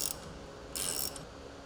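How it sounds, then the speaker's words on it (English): Removing a shock fastener and nut from the upper control arm of a Polaris RZR Trail front suspension, with two brief bursts of close ratchet clicking over a quiet workshop background. "counterhold and remove the lower shock fastener and nut from the upper control arm and discard the nut"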